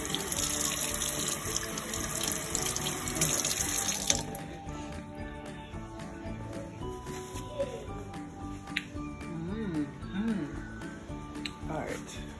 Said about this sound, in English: So I'm just gonna rinse my hand a little bit